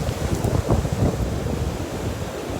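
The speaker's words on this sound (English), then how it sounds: "I have to make sure that I'm not in the way of the waves" Ocean waves wash onto a beach while sea glass is hunted, a steady rushing surf with wind buffeting the microphone, close and fairly loud.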